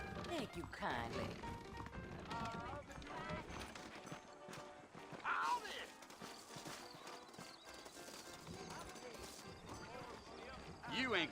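Horse hooves clop in the Red Dead Redemption video game, a steady rhythmic clip-clop of riding horses that sits under game dialogue and background music, with talking over most of it.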